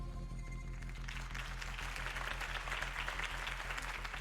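Crowd applause follows a campaign speech for Harvey Dent in Batman: The Telltale Series, a steady wash of clapping that swells after a second and continues at moderate volume over a low background hum.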